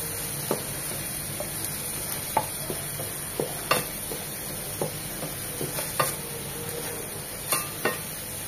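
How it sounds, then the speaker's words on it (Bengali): Noodle ingredients with chopped green chili and garlic fry over a steady sizzle, while a utensil stirs and scrapes the pan in sharp, irregular clicks and knocks, with no voices. "এখন এই সবকিছু আরো 2-1 মিনিট একটু ভেজে নেব।"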